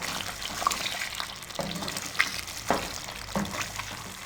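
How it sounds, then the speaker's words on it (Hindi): Mutton frying in half a cup of cooking oil in a karahi makes a soft, steady sizzle, with a few sharper clatters of stirring spaced through the quiet background. "अब इसको हम 5 से 7 मिनट के लिए भून लेंगे।"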